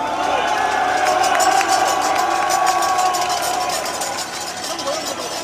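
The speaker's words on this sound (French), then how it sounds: "Je veux que vous les applaudissiez." Political rally crowd applauding and cheering security staff after an election victory, a loud, sustained roar of voices and shouts with whistles mixed in, easing slightly toward the end.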